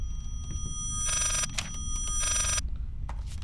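An old-style telephone bell rings in the horror video game Layers of Fear, two loud bursts of rapid metallic trilling separated by a pause, over a low rumbling ambient drone.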